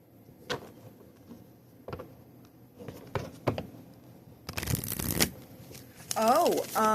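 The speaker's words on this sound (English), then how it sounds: "I'm feeling called to shuffle up my decks." Tarot and oracle card decks being shuffled by hand, with soft scattered taps and riffles that build into two longer, louder bursts of shuffling near the end, close and alone.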